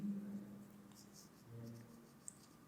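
Someone writes on a board while working through a ninth-grade trigonometry problem. Soft, scratchy strokes come in short bursts over a low electrical hum, quiet and close.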